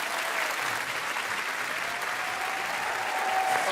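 A television talent-show audience claps in sustained, even applause that fills the whole moment, steady and fairly loud with no voices over it.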